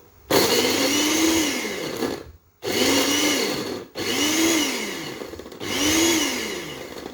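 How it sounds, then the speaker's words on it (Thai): Electric kitchen blender grinding fresh mushrooms, loud and close, running in four bursts of about one to two seconds each, the motor pitch rising then sagging as it labors, with brief silent gaps between pulses. "เครื่องปั่น"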